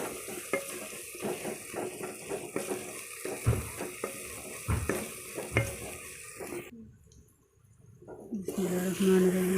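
Crushed ginger and garlic hit hot oil in a pan, with bursts of sizzling and the scrape of a spoon stirring. Hollow knocks of utensil on metal come near and loud, then a brief quiet gap before the frying resumes.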